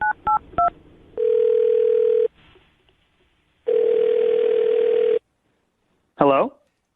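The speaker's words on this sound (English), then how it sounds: "I'm going to dial his phone number right now" Landline phone sequence: a few quick touch-tone dial beeps, then two long steady ringback tones separated by silence, ending in a brief chirp as the call connects, clear and close with no talk.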